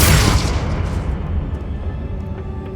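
Confringo fire spell from Hogwarts Legacy exploding with a loud, close boom that hits at once and then fades away over a few seconds.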